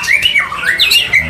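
Green leafbird (cucak ijo), a songbird kept and shown in a songbird contest, calling in a quick string of bright, sliding whistles and chirps that sweep up and down, close and loud.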